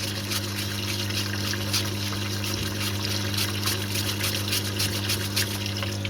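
Water drains from a part of a Bedford CA camper van, a steady trickling and gurgling flow with a constant low hum underneath, close and moderately quiet.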